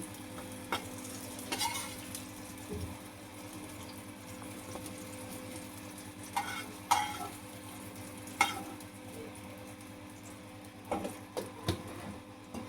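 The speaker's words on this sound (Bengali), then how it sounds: "এই একই তেলের মধ্যে যে আলুগুলো আমি ঝোলের জন্য কেটে রেখেছি সেগুলোও ভেজে নেব" Potatoes cut for a fish curry fry in oil, giving a low steady sizzle with a few brief louder crackles and clinks scattered through, close by and with no talking.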